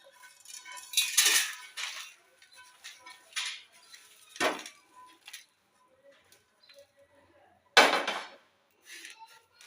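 Roasted sambar masala scraped and tipped from a pan into a dish, giving a few separate metallic clinks and scrapes of utensil on cookware, close and moderately loud with quiet pauses between.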